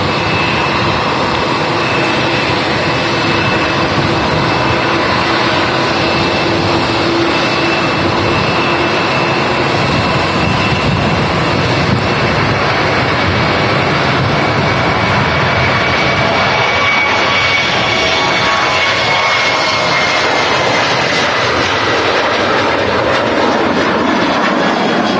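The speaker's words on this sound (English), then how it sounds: "this Ryanair to Naples is now on the takeoff road" A Ryanair jet airliner takes off at Manchester Airport, producing a loud, steady engine roar that fills the whole stretch with no break.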